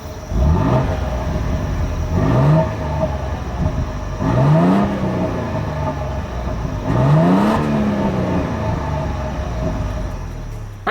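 Exhaust from a 2026 Toyota Tundra 1794 Edition pickup, heard as three separate revs, each rising in pitch and then falling away, with a steady idle drone between them.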